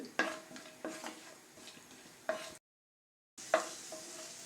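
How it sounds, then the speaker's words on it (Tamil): Almonds, cashews and raisins frying in ghee give a soft, steady sizzle with occasional scraping stirs of a utensil in the pan, broken by a brief silent gap before the sizzling resumes. "கொஞ்சம் நான் பாதாம் முந்திரியெல்லாம் கட் பண்ணி எடுத்து வச்சுருக்கேன் இப்போ நம்ம அதை உள்ள நெய்யில் சேர்த்துடலாம்"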